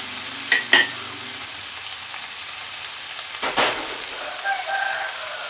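Noodle cooking water poured into black bean sauce frying in a pan for jjajangmyeon, a soft crackling sizzle with a few clinks early on and a brief burst of splashing and hissing midway, no speech.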